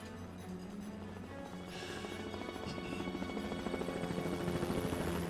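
Helicopter in the Yakuza Kiwami video game: a steady, droning rotor and engine hum that grows gradually louder over the few seconds, with no talking over it.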